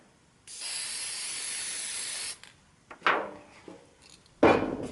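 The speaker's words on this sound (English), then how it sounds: "here's the spray paint" A spray paint can hisses steadily for about two seconds over a stencil on a VW alloy wheel center cap, then several shorter bursts follow, close and fairly loud, with quiet pauses between.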